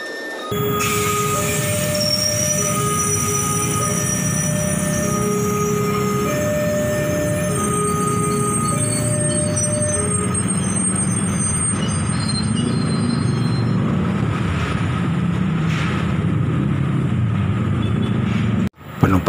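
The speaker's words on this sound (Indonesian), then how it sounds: "Kereta tiba." A train slowly enters Batutulis station on the Bogor–Sukabumi line with a constant rumble while its wheels squeal in long, shifting high tones, close and loud throughout.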